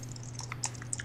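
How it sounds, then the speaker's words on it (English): Keys clatter on a computer keyboard in short irregular taps, fairly close and quiet, over a low steady hum in an office-like room. "Brendan's typing."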